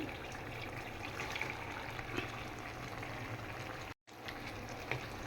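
Bombay chillies going into a pan of cooking mango pickle with vinegar, giving a steady, moderately loud bubbling sizzle with a brief cut of silence near the end and no talk.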